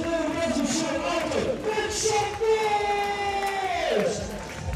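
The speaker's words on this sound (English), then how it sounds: "MC there getting the crowd going." Crowd cheering and whooping at the UCI Trials World Cup 2012 super final in Aalter, with an MC's amplified voice hyping the spectators over sustained, loud crowd noise.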